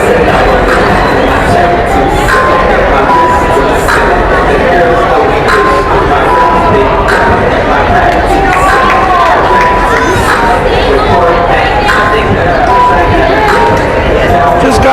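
Loud, sustained crowd noise from a school cheering section at a Beekmantown Central versus Plattsburgh high school volleyball final, with shouting and cheering filling the gym continuously.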